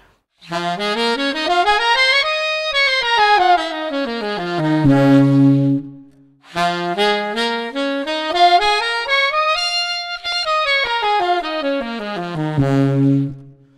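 Rising and falling runs of a bright electronic wind instrument doubled by an octave-up harmony effect, played twice with a brief pause between.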